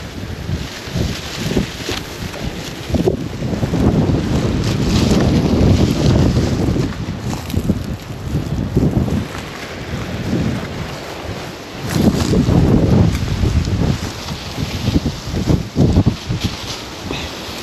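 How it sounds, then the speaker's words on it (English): Steady, loud wind buffets the microphone outdoors, a continuous low roar with gusty swells that rise and fall across the whole stretch. "Oh, it's wind."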